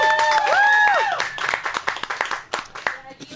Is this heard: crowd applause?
yes